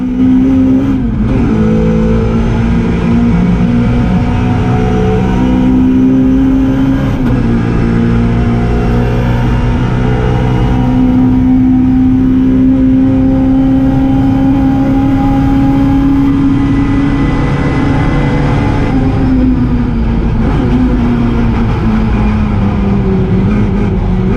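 Mini Cooper racing in the St Mary's Trophy at the Goodwood Revival, heard from on board: a loud, unbroken engine drone that rises and falls as the driver shifts gears and revs through the corners.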